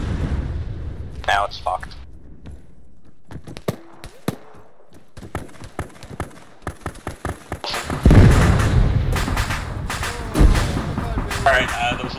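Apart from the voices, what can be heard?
explosions in the video game Arma III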